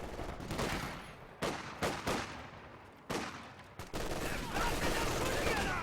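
Machine gun and rifle fire in a World War II strategy game crackles in repeated bursts under a commentator's continuous voice, with a distant, busy battle texture.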